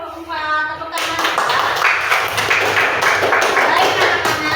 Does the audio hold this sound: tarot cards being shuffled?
no